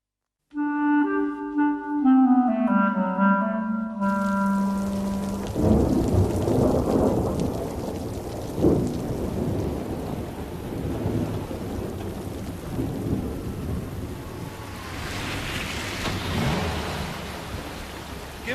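After a brief musical jingle, heavy rain pours down in a dense, continuous wash, with deep rolling thunder rumbling beneath it.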